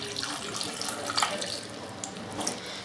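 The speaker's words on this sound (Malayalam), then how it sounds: "ഇനി ഇതിലോട്ട് കുറച്ച് വെള്ളം ചേർത്ത് കൊടുക്കുകയാണ്." Water pours steadily into a cooking pot of tapioca, a soft continuous splashing trickle at moderate distance, with no talking.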